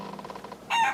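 A chicken kept aboard a Georgian-era sailing ship gives a quick run of pulsing clucks that rises into a sharper, louder squawk at the end, close and heard alone.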